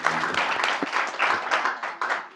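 A crowd claps and applauds at a press conference, a dense, steady patter of many hands that rises and dips in loudness for a couple of seconds.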